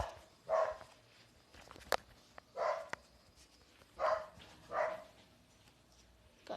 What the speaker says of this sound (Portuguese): Cachorrada dos infernos aqui do vizinho,